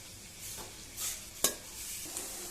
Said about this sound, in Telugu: ఇంకో 5 minutes వేయించుకోవాలి.